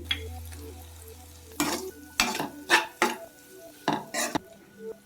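Avakaya mango pickle is stirred and fried into egg rice in a pan, with a low sizzle under a run of sharp spoon scrapes and clanks against the metal, coming in uneven bursts.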